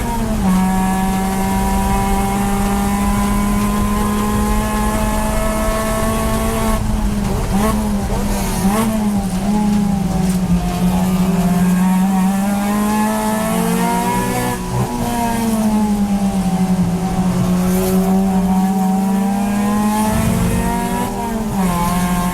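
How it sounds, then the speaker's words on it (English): A Mazda ND Miata race car lapping at Clark Speedway during an endurance race, its engine droning loud and close throughout with pitch rising and falling through gear changes and corners, plus faint tire noise. "trying to keep a perfect lap and making sure that I really maximize the cornering capabilities of our ND Miata"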